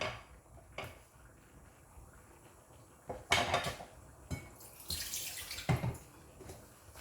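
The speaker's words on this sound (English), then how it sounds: "I'm going to add it to my boiling water." Porridge mixture for tuo zaafi poured into a pot of boiling water, giving splashing, bubbling sounds with scattered clatters and a few louder bursts from the pot.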